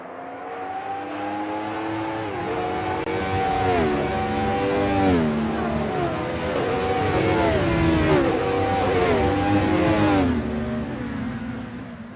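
Vintage race car engines in the Assetto Corsa racing game rev loudly and continuously, their pitch repeatedly sweeping up and dropping back as the cars accelerate and shift through gears.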